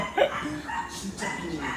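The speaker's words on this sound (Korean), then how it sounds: "강아지 큰 강아지 있다." A big dog barks a few times at a moderate distance, short muffled woofs heard under outdoor background noise, with no talking over it.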